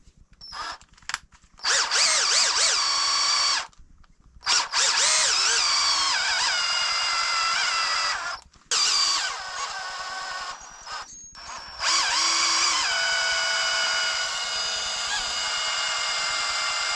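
A power screwdriver drives screws while a Losi Super Rock Rey RC truck is taken apart. Several close, whining motor bursts start and stop abruptly, with short silent gaps between runs.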